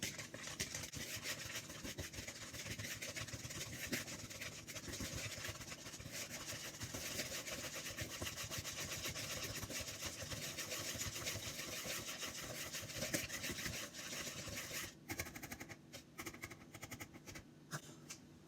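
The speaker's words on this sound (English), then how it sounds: "I've mixed the butter and the Splenda together" An electric mixer beats butter and Splenda together in a bowl, a steady continuous buzzing whir with scraping texture, faint and even throughout before briefly dropping off and resuming near the end.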